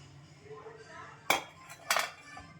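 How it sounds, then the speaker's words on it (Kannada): A pressure cooker lid being opened in a home kitchen while cooking greens saaru, giving two sharp metallic clanks in quick succession over quiet background. "ಕುಕ್ಕರ್ ಓಪನ್ ಮಾಡ್ಕೊಳ್ಳಿ"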